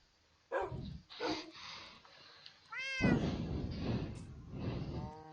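A cat in the video game Minecraft meows repeatedly, a few separate mews near and clear, with a dog's bark mixed in and no speech.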